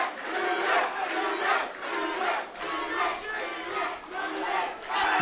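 A crowd at a live MMA event, Night of the Gladiators 38, roars and cheers steadily for the local fighter, a loud, sustained swell of shouting voices that surges and dips in waves.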